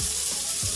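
Tap water runs steadily into a sink while a blender jar is rinsed out in a home kitchen, a constant bright splashing with a few low thuds of handling.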